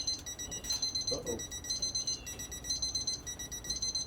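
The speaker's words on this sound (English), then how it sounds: "Alarm went off." BBQ smoker temperature alarm beeping in a steady repeating pattern throughout, fairly faint, with a brief voice reacting partway through.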